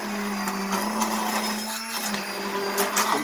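A blender grinds tomato sauce, running as a steady, loud mechanical whir with a constant motor tone and slight fluctuations as the ingredients churn, and no voices over it.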